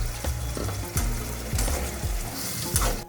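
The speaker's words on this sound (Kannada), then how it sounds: "ಹುಣಸಿನ್ಕಾಯಿ ನೀರು ಹಾಕ್ತೀನಿ ರೀ" Tamarind water hitting hot oil and masala for girmit sizzles loudly in a pan, with a steady frying hiss and rhythmic scrapes of a spoon stirring the mixture, close up and without talk.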